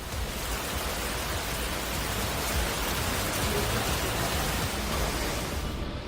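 Heavy torrential monsoon rain near Lonavala and Pune, India, pouring in a dense, steady roar that holds at the same loud level throughout with no let-up and no voices.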